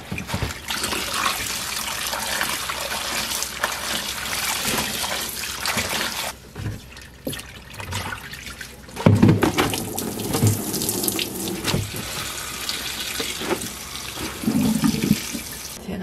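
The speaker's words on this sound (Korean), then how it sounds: "그러면 이제 씻어주면 돼요 두 번만 헹궈주겠습니다" Perilla shoots are rinsed under a running kitchen tap, with a loud, steady rush of water into the sink and splashing and sloshing as the greens are handled. The water eases off briefly midway before flowing strongly again.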